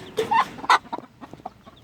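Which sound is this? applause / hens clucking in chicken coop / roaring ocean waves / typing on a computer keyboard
hens clucking in chicken coop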